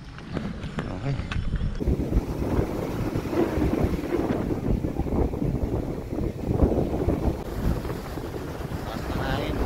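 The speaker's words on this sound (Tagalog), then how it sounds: "Taas ng hangin, taas ng hangin." Strong wind buffets the microphone during a motorcycle ride around the Puerto Galera ferry terminal in Mindoro, a loud, steady broadband roar lasting throughout with gusty swells and possible water noise beneath.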